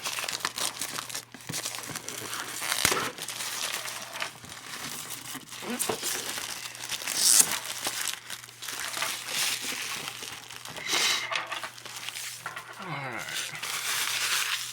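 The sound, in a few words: plastic wrap being torn off a model kit box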